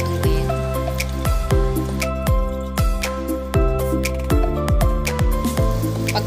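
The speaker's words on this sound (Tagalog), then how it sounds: "Salain ito bago ilagay sa kawali kung saan ito lulutuin." Liquid for an Ilocos rice cake being strained into a cooking pan, with close, loud drips and splashy trickles falling irregularly and continuously, some plopping sounds among them.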